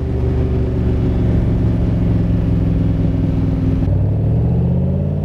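A 1965 Shelby Cobra replica, a Superformance MkII, accelerates hard with a loud, close engine drone whose pitch climbs steadily, drops briefly at a gear change, then rises again, with no voices over it.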